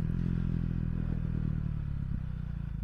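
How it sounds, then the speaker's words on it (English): A KTM Duke 390 single-cylinder motorcycle engine idles close by, a steady low throbbing rumble that holds evenly throughout with a slight lumpy pulse. "Idle seems a little bit smoother."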